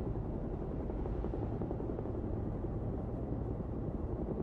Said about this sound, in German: Der Boss schickt seinen privaten Helikopter, um einen Agenten abzuholen.